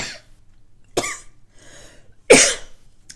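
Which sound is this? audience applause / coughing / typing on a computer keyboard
coughing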